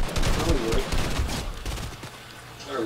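Loud, dense gunfire in Fortnite, with rapid repeated shots running almost the whole way through and a voice talking over parts of it.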